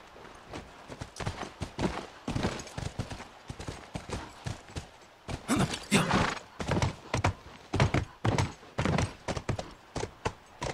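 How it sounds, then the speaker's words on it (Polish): Horse hooves clip-clopping in the video game The Last of Us, a close, steady run of sharp hoof strikes landing in quick bursts and pausing briefly between groups. "Wskakuj na konia."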